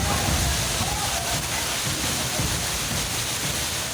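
Heavy monsoon rain and rushing floodwater during a storm in Jodhpur, Rajasthan, a dense, steady roaring hiss at constant loudness with no breaks, faintly mixed with muffled voices.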